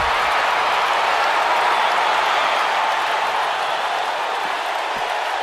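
Arena crowd in the WWE 2K19 wrestling game cheering and applauding during a women's tag match, a loud, dense, continuous wash of clapping and crowd noise holding steady throughout.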